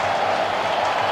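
A stadium crowd applauds a player at a 1999 European Championship qualifier football match between Italy and Belarus: a steady, dense roar of clapping and crowd noise throughout the short moment, with no clear talk.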